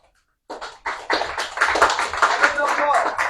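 A church congregation breaks into applause after a short silence, the clapping swelling into a dense, close ovation with voices mixed in.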